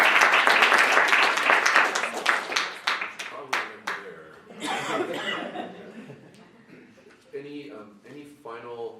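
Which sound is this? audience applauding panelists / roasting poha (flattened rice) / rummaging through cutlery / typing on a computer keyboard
audience applauding panelists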